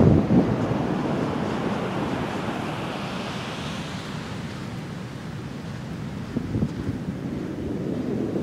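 Ocean swell washes steadily up a beach, a broad continuous roar of surf with gusts of wind buffeting the microphone throughout.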